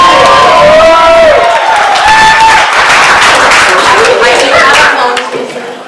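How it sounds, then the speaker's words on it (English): Wedding guests clap and cheer for the matron of honor, a loud burst of close applause with whoops and speech mixed in, easing off toward the end. "Next round of applause."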